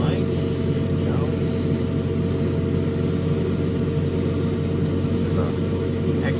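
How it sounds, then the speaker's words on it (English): An airbrush test-sprays Tamiya XF16 paint in a spray booth, making a loud, steady, continuous hiss over a constant low booth hum, with faint clicks and no pauses. "So I'm just going to test spray over here."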